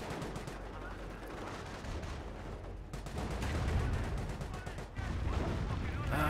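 Off-map artillery strike in the real-time strategy game Company of Heroes: steady gunfire and machine-gun rattle under heavy thudding impacts that swell louder midway, dense continuous battle noise with no talking.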